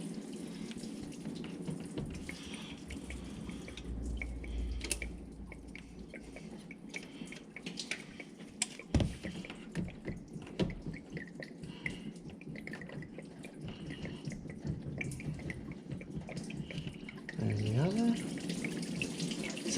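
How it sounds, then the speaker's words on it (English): Fluid from a truck drains and splashes into a drain pan, a steady close trickling and spattering that runs continuously, with faint rattles and a brief louder clatter mid-way. "Sounds like most of it's going in the drain pan."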